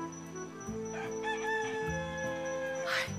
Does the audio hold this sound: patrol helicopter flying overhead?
no